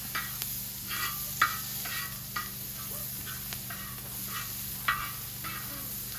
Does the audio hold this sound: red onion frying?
yes